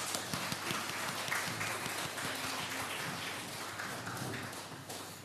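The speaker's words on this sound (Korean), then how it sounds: "우리 옆에 있는 분들 박수로 환영했으면 좋겠습니다." A church congregation applauds together to welcome visitors at a Sunday service, steady dense clapping filling the room at a moderate distance, fairly even throughout with no voices over it.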